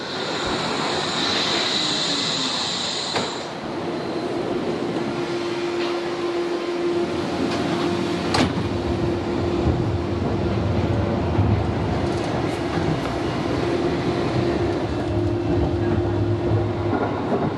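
The Wuppertal Schwebebahn suspended monorail train runs past with a continuous mechanical rumble and a sustained tonal whine, close and loud throughout.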